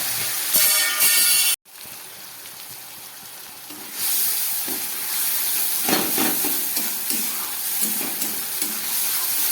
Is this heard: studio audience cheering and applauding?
no